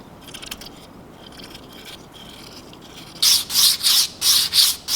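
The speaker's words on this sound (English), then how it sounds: "Long sanding strokes." Quiet shuffling at first, then five loud, rhythmic sandpaper strokes rasp back and forth close by as a wooden fishing lure is hand-sanded, each a long gritty swipe.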